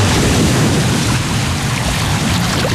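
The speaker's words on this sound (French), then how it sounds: "Vous l'entendez, le chuchotement des vagues que l'on avait presque oublié." Steady surf of ocean waves washing onto a beach, part of a radio advertisement, a loud continuous broadband rush with low rumble throughout and no voices.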